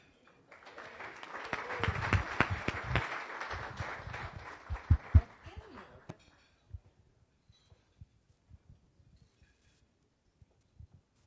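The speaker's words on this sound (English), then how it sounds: "everyone please give him an applaud for his joining our club again, past member" Applause for a returning past member at a Las Vegas Rotary Club meeting, a roomful of people clapping for about five seconds, then thinning to a few scattered claps before falling silent.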